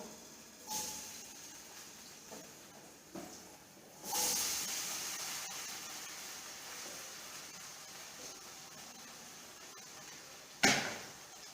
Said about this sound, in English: I'm going to put the Irish, I'm going to fry it